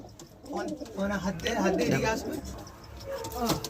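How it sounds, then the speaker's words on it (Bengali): Pigeons coo softly in low, rolling calls close by, mixed in with a person talking over them. "দেখো পায়রা দুটো একবারে স্ট্যান্ডিং দেখো কতটা গরম পায়রা দেখো"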